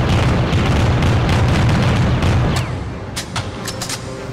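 A Tommy gun in the video game Killer 7 fires a loud, dense stream of rapid shots for about two and a half seconds, then stops, leaving a few sharp clicks and clatters.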